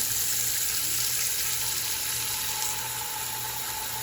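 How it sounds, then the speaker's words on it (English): Tap water running into a pot for cooking crab legs, a steady hiss of filling that holds level throughout, close and fairly loud. "now we're gonna just fill the pot up just about halfway"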